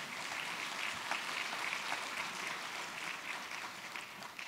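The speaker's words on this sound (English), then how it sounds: "let's hear one more generous round of applause for all of our supporters" Audience applause at an evening community awards program, a steady wash of many hands clapping that holds at moderate loudness for the whole stretch, with no voices over it.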